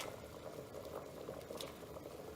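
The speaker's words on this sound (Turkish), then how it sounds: "kaynar suyumuza köftelerimizi tek tek atıyoruz" Meatballs drop into a pot of salted boiling water, giving a soft, continuous bubbling and gurgling with a few faint splashes, quiet and close.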